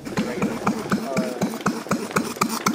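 Old stationary engines idling at a winter engine show, a steady rhythmic chuffing with evenly spaced firing pulses about four per second, close and fairly loud.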